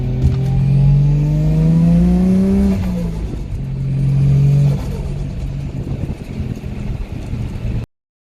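A car climbing uphill through left and right bends over a crest on a track, its engine revving in steady rising pulls that drop with gear changes, loud inside the cabin with road and wind rumble throughout, then cutting off abruptly.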